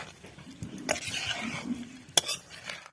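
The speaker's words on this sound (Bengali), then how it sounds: "এবার এটাকে আমি কষতে থাকবো।" Chicken with garam masala being stirred and fried in a pan, a spoon scraping and clinking against the metal over a soft sizzle, with one sharper knock near the end.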